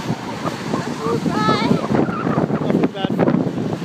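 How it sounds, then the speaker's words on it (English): Strong wind buffets the microphone on a windy day in a Hawthorn street, a loud rushing roar that rises and falls while people talk and exclaim over it. "It's a windy day in Hawthorn."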